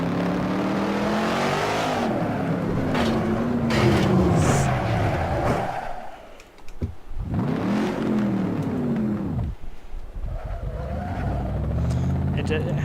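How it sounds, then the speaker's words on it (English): A manual car's engine revs and accelerates hard, the pitch sweeping up and dropping through gear changes, with a brief lull midway before climbing again; loud and close, apparently from inside the cabin. "This is a very, very nice cruising car,"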